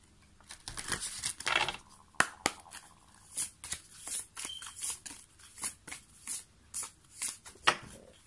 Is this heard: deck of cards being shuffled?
yes